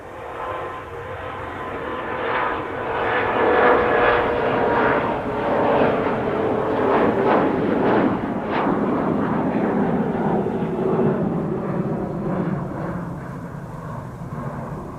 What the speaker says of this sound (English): So, CRJ going to Munich, if I recall correctly.